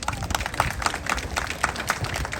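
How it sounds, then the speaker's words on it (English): Crowd applauding at a 109th Precinct police party in Flushing, New York, with brisk continuous clapping from many people, fairly loud with some crowd murmur mixed in. "Let's give them a round of applause"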